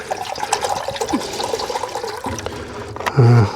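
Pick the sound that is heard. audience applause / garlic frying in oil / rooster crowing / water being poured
water being poured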